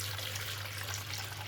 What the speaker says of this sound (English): we're going to take our washing up bowl full of RO water, and we're going to tip it into here